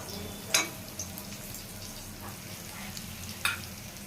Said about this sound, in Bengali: এখন একটু এটা ভাজা চলছে